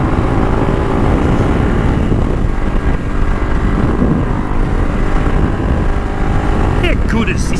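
A Honda CRF300 Rally motorcycle holds a loud, continuous engine drone at steady revs while ridden on a bumpy trail, with wind buffeting throughout and a brief rattle at the end.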